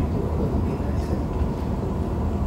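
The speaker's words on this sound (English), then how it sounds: "here is the tractor train, and it consisted of two Caterpillar tractors" Tractor train of two Caterpillar tractors pulling heavy 20-ton sleds at departure on the Byrd-to-Pole polar traverse: a steady, loud low rumble and engine drone fills the whole stretch without a break.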